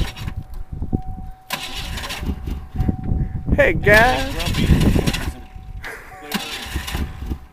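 1986 Ford Ranger pickup with a weak, sluggish starter: several short cranking bursts as the engine tries to catch and then briefly runs, close by, with people talking over and between the attempts.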